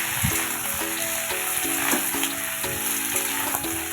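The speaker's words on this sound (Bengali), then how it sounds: "দেখো আমি সবজিগুলো দিয়ে দিচ্ছি।" Vegetables hit hot oil seasoned with five-spice and dried chilli for a vegetarian Malabar spinach dish, giving a steady close sizzle and fry with light stirring clatter throughout.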